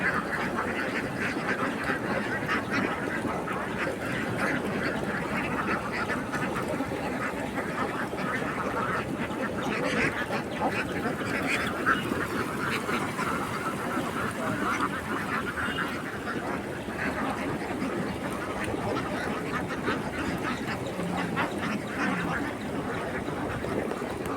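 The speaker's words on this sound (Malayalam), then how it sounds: "നമ്മുടെ പ്രദേശത്ത് ഇങ്ങനെ താറാവ് വരല് അപൂർവമാണ്" A large flock of ducks quacking nonstop in Palakkad, a dense, overlapping chorus close by with honks mixed in, and faint voices in the background.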